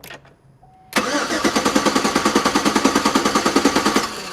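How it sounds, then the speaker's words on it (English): A car engine cranks over steadily during a power steering flush, with a fast, even chugging rhythm of about twenty pulses that starts abruptly after a quiet moment and continues loud and close. "we still got some fluid in the pump, so you can go ahead and crank it a little more"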